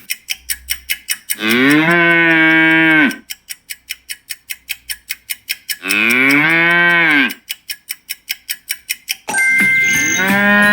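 Two long, loud cow moos separated by a rhythmic ticking pulse, then a third moo begins with a bright chime layered over it.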